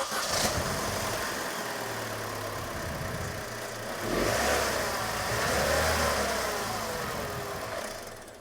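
A GM Ecotec 1.4L turbo engine runs after a turbocharger replacement, idling quietly with a low steady rumble and two gentle revs that rise and fall.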